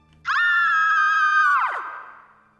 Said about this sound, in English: they all heard a loud scream that sounded like it belonged to a little girl